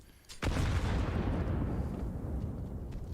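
A grenade exploding in a Counter-Strike pro match: one loud, deep blast that rolls out into a long rumbling tail, with no one talking.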